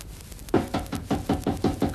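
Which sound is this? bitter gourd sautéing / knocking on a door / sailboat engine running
knocking on a door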